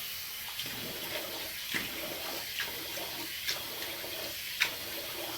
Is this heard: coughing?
no